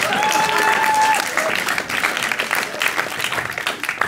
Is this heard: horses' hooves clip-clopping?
no